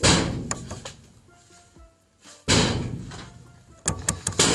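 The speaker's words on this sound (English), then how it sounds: "Pull the door, officer." A heavy door rumbles and slides, then lands with a loud thud, followed by a few sharp knocks and clunks nearby.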